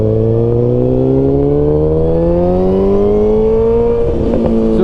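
A motorcycle on sport tyres rides along the road, its engine note rising steadily as it accelerates, loud and close with steady wind rush throughout.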